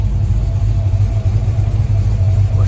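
A 1972 Chevy Highlander engine idles just after starting, a loud, steady, close low rumble with an even throb and no talking.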